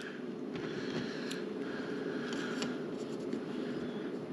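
Scissors cutting a thermal pad for a GTX 1070 graphics card, a faint, steady close snipping and scraping against a low background hiss, with no voices.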